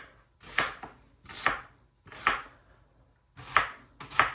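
Onions are chopped on a board in five separate, evenly spaced knife strikes. Each one is a crisp, close thunk followed by a short pause.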